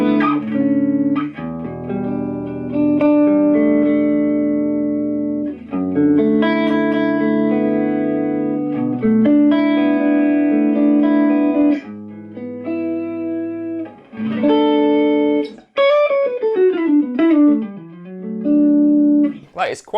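Clean electric guitar tone soaked in delay and reverb, chords and single notes ringing with trailing echoes and a wide, washy tail, loud and close with pitch-bending phrases toward the end.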